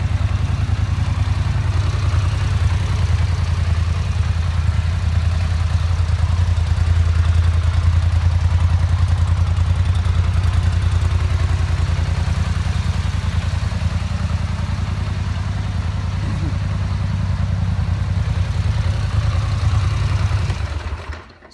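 A 2013 Polaris 850 XP EPS utility vehicle's engine idles steadily up close, a deep continuous rumble with light mechanical clatter that holds even for about twenty seconds before cutting off at the end.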